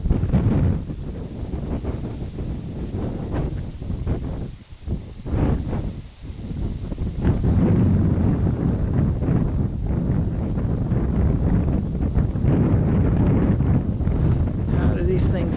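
Strong, gusting wind roars outdoors over trees, buffeting the microphone with loud low rumbling that surges and briefly dips, continuous throughout.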